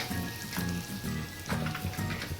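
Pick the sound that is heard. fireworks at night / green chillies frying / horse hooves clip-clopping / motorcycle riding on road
green chillies frying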